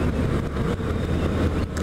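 A 2015 Yamaha FZ-09 inline-four motorcycle engine running under way, a dense, steady drone close by and mixed with rushing wind buffeting the microphone throughout.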